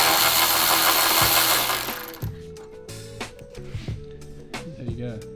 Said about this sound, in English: this is actually the best tool because it's like a ratchet, so you can like ratchet things with it.